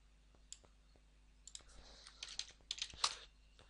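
Computer keyboard and mouse in use in Excel: a few sparse, crisp clicks at the start, then a run of quicker, close keystroke taps and clicks.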